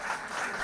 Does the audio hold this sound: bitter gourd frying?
no